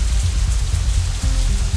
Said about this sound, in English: it's still raining outside when we exit the Shanghai, though it seems to be letting up a little.